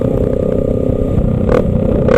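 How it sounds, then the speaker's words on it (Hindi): A motocross bike's exhaust note on a Sunday off-road ride: a loud, steady low rumble close by that swells slightly near the end, heard alone. "exhaust sound"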